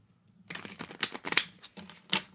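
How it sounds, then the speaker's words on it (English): A new deck of cards being shuffled up close, with a rapid flurry of papery riffles and slaps in irregular bursts after a quiet start, soft overall with a few sharper snaps. "Because this is a new deck, I am shuffling it a little bit."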